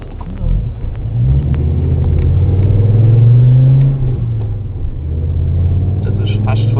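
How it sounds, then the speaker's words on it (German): A car engine is pushed to nearly full throttle, a loud droning growl climbing in pitch, then easing off and building again, heard from inside the vehicle. "Das ist fast Vollgas. Das ist Vollgas."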